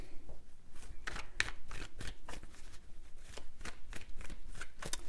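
Playing cards are riffle-shuffled repeatedly, a series of quick crisp flutters and taps close to the listener, with no talking.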